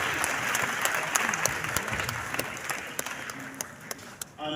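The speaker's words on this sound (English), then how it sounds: "Please, a huge round of applause for that." Applause from the audience at a youth summit in a Nigerian arena, a dense, sustained wash of many hands clapping with scattered sharper claps, steady and loud all the way through before cutting off at the end.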